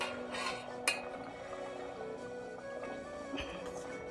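A cooking pot is closed with its lid while making a curry, giving a faint metallic clink and a second soft clatter later, set against a quiet kitchen hum.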